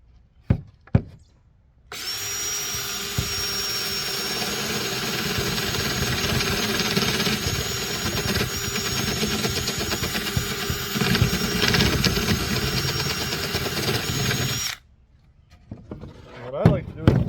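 A power drill with a 1-inch spade bit bores through a plastic kayak hull in one loud, steady whine of about thirteen seconds, with short clatters and handling noises before and after.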